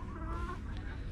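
A five-month-old young rooster clucks close by, with short repeated calls over steady farmyard background noise.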